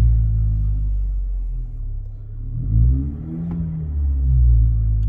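A 2022 Chevy Silverado Custom with a 2.7 liter four-cylinder turbo and a Flowmaster 40 series chamber muffler rumbles at idle, a deep steady exhaust drone that swells slightly midway, close and loud with no talking.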